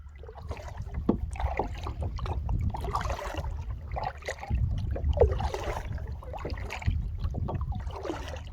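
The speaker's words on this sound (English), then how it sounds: "while I've been messing around on the kayak on the lake" A kayak paddled on a Welsh lake gives rhythmic splashes and drips from the blades, repeating about every second over a low rumble of wind and water, close and fairly loud.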